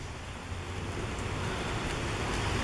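Storm rain falls steadily at a railroad station in Marietta, a dense continuous hiss of drops on surfaces that stays even and fairly loud for the whole stretch, with no voices.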